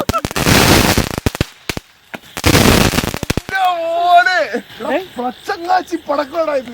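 Two loud bursts of firecracker strings crackle in rapid-fire succession, separated by a short pause, followed by excited voices talking close by.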